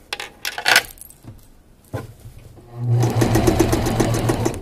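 A sewing machine stitching a curved crotch seam in a garment, a few handling clicks and short bursts first, then a steady rapid run of the machine's needle close by for the last couple of seconds.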